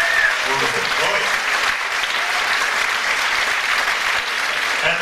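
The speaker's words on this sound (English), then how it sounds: "Come on, big round of applause, flash it out, ladies and gentlemen." A concert audience at a live soul band show gives a big, continuous round of applause, loud and dense throughout with some cheering mixed in.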